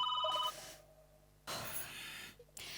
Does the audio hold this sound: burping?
no